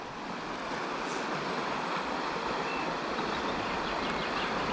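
Waterfall on the Kwisa river roars as a steady, loud broadband rush that fills the whole stretch without pause, with no voices heard over it.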